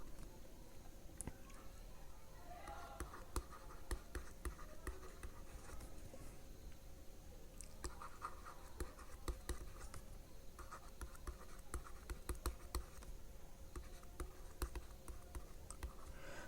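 Handwriting during a corporate accounting lecture comes through as faint, continuous scratchy strokes and light taps, quiet and close with no voices.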